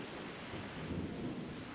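Steady rain from Terra Nil falls across the landscape as a constant soft hiss with low rumbling, evenly loud throughout with no talking.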